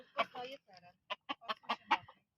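A small rooster, smaller than some of the hens, gives a quick run of clucks in short, fairly close bursts.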